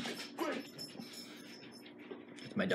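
A dog companion in the video game Skyrim whimpers and pants close by, short yips rising over a steady game-world backdrop.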